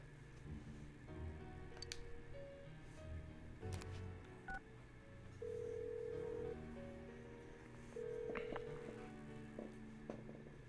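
A phone rings out unanswered in Persona 4 Golden, steady electronic ring tones repeating at a moderate level over background game music, with no voices present.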